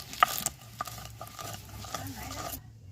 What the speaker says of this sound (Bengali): এর সঙ্গে সেদ্ধ যে আমি করতে দিয়েছিলাম রসুন, এর সঙ্গেই বেটে নিচ্ছি